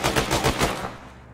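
Rapid bursts of gunshots fired from a window in the video game Task Force 412, loud and close, with several quick cracks crowded together before fading out.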